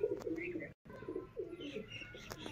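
A pigeon coos softly in a Sialkot pigeon-keeping loft, with faint chirps and rustling close by and a brief cut of silence partway through.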